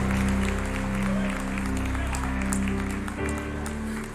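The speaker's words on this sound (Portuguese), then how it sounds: "Quem entende esta palavra, aplauda o nome do Senhor." A church congregation applauds during a sermon, a dense sustained clatter of many hands filling the room for several seconds, heard close and fairly loud with a voice speaking over it.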